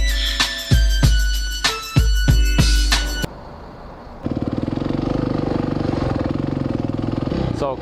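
Supermoto motorcycle engine close by, first a run of sharp, punchy revs and throttle blips, then after a brief lull a rapid, steady thumping idle or low-speed drone that continues to the end.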